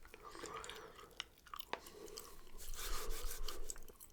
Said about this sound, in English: I just want to get a couple chews in.